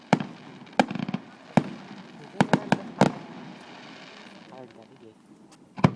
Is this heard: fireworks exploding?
yes